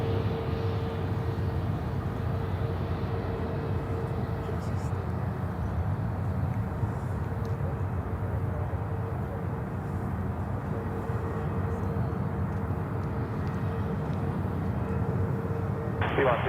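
An airplane rolls for takeoff from runway 36 center at Charlotte airport, a steady broad jet-engine roar holding at a constant level throughout, with faint radio chatter underneath.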